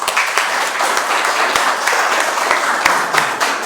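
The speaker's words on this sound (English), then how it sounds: "Let's give them a little hand of applause." Applause fills a school board meeting room, a steady wash of clapping from a modest crowd with a few sharper individual claps standing out, continuous through the moment.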